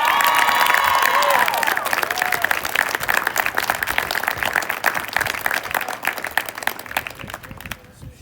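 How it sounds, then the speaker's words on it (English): An audience at a high school senior awards ceremony applauds a student athlete, with dense, steady clapping and some cheers at first, holding loud for several seconds before thinning out and fading near the end. "Let's give one more round of applause for Kat."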